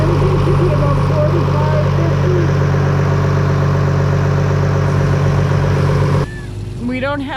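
A rebuilt 1974 BMC diesel boat engine idles steadily in neutral with a constant low throb, loud and close; people talk over it through most of the clip, and near the end the engine note drops and shifts as it changes load.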